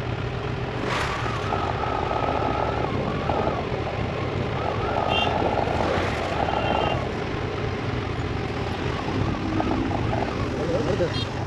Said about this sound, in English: my bike's warm enough to kick the fan on